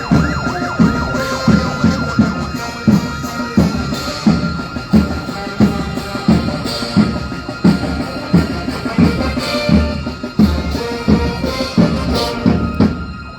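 A Fiorino ambulance siren wails loudly and continuously at a military ceremony, cycling in a rapid, repeating pattern over a low vehicle rumble.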